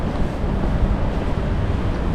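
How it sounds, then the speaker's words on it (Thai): Strong gusting wind on an outdoor winter street in Sapporo, Hokkaido, a loud continuous rushing roar buffeting the microphone with no pauses. "โอ้ลมแรงเหมือนกันนะเนี่ย"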